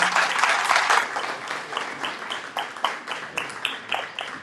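Applause from an audience fills the room, dense at first and thinning into scattered claps toward the end.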